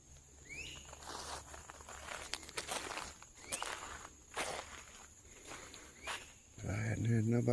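Footsteps crunch and shuffle nearby on rough ground at the Wetumpka impact crater in Alabama, in an irregular rhythm, with insects chirping in the background and a low rumble near the end.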